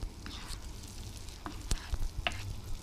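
Butter sizzles in a pan for Black Sea mıhlama with a soft steady fry, broken by a few sharp utensil clicks and a faint scrape, and no clear talk.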